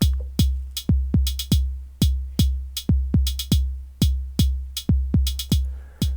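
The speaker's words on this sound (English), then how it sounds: "I'm going to go with a kick drum on 1, 4," Punchy electronic kick drum hits from an Elektron Model:Cycles repeat in a steady sequenced pattern at 120 BPM, some in quick doubles, each with a deep booming decay, loud and alone.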